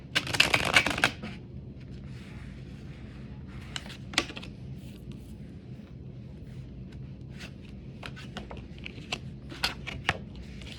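Tarot cards are shuffled close up in a burst of rapid riffling at the start, followed by scattered soft taps and flicks of cards being handled and laid out in a quiet room.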